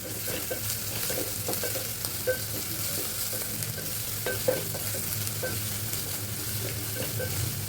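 Vegetables frying in a pan with turmeric and salt are stirred steadily, a continuous sizzle with scattered scrapes and clinks of the spoon, close and fairly even throughout.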